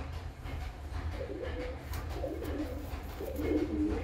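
Breeding high-flying pigeons coo close by, with several soft, low, repeated calls over a faint steady background hum.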